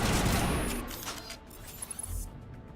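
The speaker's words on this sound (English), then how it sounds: "What are you shooting at, Williams?" Gunfire in the video game Mass Effect 1 Legendary Edition fills the opening second as a dense, loud burst of shots, then fades into quieter game ambience with a few faint distant pops.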